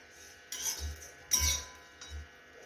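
Dried shrimp dry-roasting in a pan, stirred with a utensil: three distinct scraping, clinking strokes against the pan at even intervals over a quiet low hum, with no talking.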